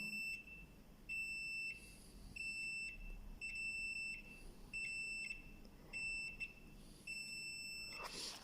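A multimeter set to continuity gives a series of short, shrill electronic beeps in an irregular on-off pattern, each lasting about half a second, over a faint steady hum, with no talking.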